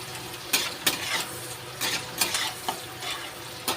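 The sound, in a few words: onions frying until brown in a pan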